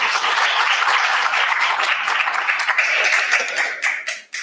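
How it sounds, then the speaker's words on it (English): Audience at a history panel on the Scottsboro Trials gives a round of applause, a loud, even roar of many clapping hands held steady throughout before tapering off briefly at the very end. "It's my pleasure to welcome these 3 folks to start us off with a round of applause"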